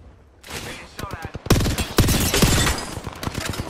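Rapid gunfire in the video game shooter Conduit, bursts of sharp, dense shots that start sparse and build into heavy overlapping volleys, with a voice talking briefly over them.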